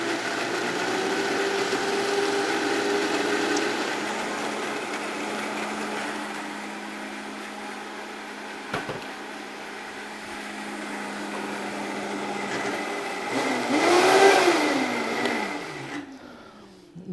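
A food processor whirs steadily as it blends salad dressing for a carrot and beet salad, a loud continuous motor drone with a rising surge near the end before it cuts off.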